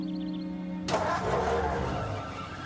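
A car engine cranks and catches with a sudden loud onset, then settles into a rough, steady running idle close by, with no talking over it.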